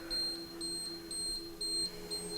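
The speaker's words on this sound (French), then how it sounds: "Désolé pour le bip-bip du lave-vaisselle." Kitchen dishwasher beeping in a repeating pattern of short, evenly spaced high electronic tones, about two per second and moderately faint, over a steady low hum, with no voices.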